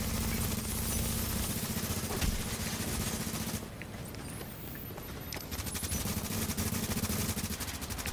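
Rapid turret gunfire rattles in a multiplayer shooter video game, dense bursts of shots repeating over a continuous background of game noise, briefly thinning before the firing picks up again.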